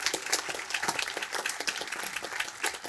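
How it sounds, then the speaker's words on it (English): A crowd at an outdoor veteran monument ribbon cutting in Columbia gives a round of applause for military families, moderately distant clapping with scattered individual claps standing out over a few seconds. "can we have a round of applause to so many of them who are here too"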